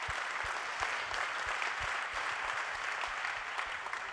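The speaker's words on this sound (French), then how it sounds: "applaudissements" Steady audience applause fills a conference hall at a launch event, a continuous wash of many hands clapping at an even level with no talking over it.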